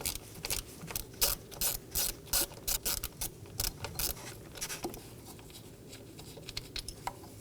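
Ratchet wrench loosening an 8mm bolt beside the ignition pack on a 2014-2023 Ford Transit Connect 2.5L four-cylinder: a run of quick clicking pawl strokes, close and moderately loud, slowing and fading toward the end.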